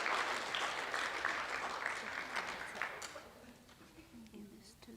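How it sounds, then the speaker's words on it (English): An audience at a school pageant claps for about three seconds, fairly quiet and diffuse, then the applause fades out as a voice and stray room sounds take over. "Let's give them a round of applause"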